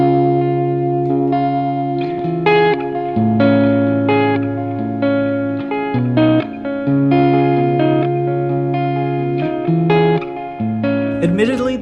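An electric guitar runs through a Boss Space Echo delay pedal, playing sustained distorted notes and chords with echoing repeats and reverb tails, loud and close, ending with a brief bright flourish.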